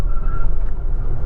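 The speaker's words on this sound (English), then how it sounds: "wheel spin" An MG ZS EV electric car launches hard in sport mode and its wheels spin, giving a loud, brief burst of rough tyre roar and electric motor noise with no voices.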